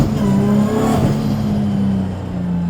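Toyota JZX100 with a sequential-turbo 2JZ engine, around 600 hp, pulling hard in third gear on a road: a loud, steady engine note climbing and holding, with turbo whir over the top, close and without talk.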